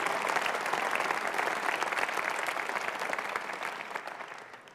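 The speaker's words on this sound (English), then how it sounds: "Let's give them a big round of applause to thank them for what they're doing." A conference hall audience at a party political conference gives a sustained round of applause, dense and steady, fading slightly toward the end with no voices over it.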